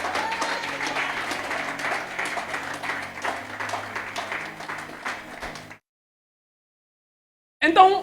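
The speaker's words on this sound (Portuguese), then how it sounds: "Traga uma salva de palmas para a glória de Deus." A church congregation claps in applause during a sermon, a steady, fairly close burst lasting several seconds before stopping abruptly, followed by a short silence and a brief sound at the end.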